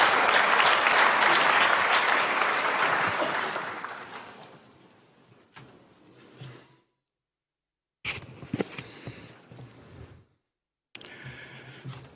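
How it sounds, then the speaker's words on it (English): Applause from a large audience welcoming Italian Prime Minister Giorgia Meloni at a United Nations event, loud at first then dying away, followed by brief fainter bursts of clapping and room noise. "So welcome her with a good round of applause"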